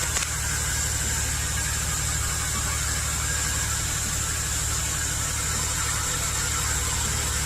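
A Chevy Express van engine idles with a misfire, a steady low mechanical rumble with a faint high whine running unbroken and close for the whole stretch, with no voices over it.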